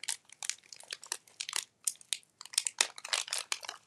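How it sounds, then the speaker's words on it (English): A paper package sealed with a decorative sticker is peeled and opened carefully, a close run of quick crinkling and rustling bursts with short pauses between them, with no voice. "see if I can open this without tearing the sticker"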